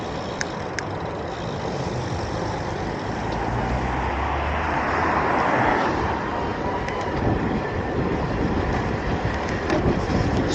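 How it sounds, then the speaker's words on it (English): Steady wind roars loudly while riding a Creo bike eastward into a light headwind on mostly dry roads, a broad continuous rush that swells slightly midway and never lets up, with no voices. "got a little bit of headwind now heading this way, heading east"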